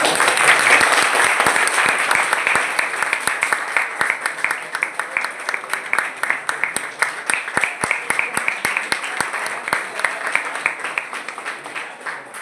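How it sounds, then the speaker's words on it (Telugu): An audience at a charitable trust's felicitation event applauds steadily, the clapping gradually thinning into distinct individual claps near the end, with some voices mixed in. "క్లాప్స్ కొట్టరా."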